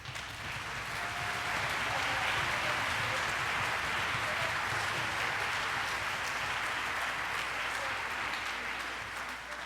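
An audience applauds first-chair students at a middle school band concert, a dense and sustained wash of clapping that swells and holds for several seconds before easing slightly.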